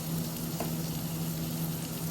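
A steak sizzles in a pan over a camp burner, a constant close crackling hiss with a low hum beneath, alone and without talking.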